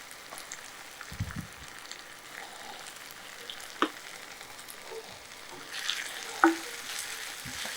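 Chicken with fennel, ginger and garlic sizzles steadily in ghee in a pan over low flame while a utensil stirs and scrapes, with a few sharper clinks and pops rising above the hiss.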